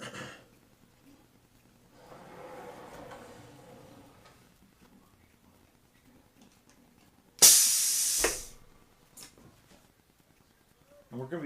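A heat press closing on a shirt for heat transfer vinyl gives a sudden loud hiss of steam that fades over about a second, with soft clicks and quiet speech in a quiet room before and after.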